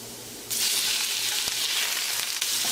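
Shrimp dropped into a hot pan with garlic bursts into a loud, sudden sizzle that settles into steady frying crackle over low heat for basil fried rice.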